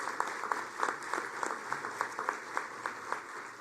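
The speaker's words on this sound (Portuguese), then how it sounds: "uma salva de palmas, porque você foi essencial na construção de todo esse processo" Audience applauding at a Brazilian public event on sustainable development, a moderate steady round of many hands with distinct individual claps standing out throughout.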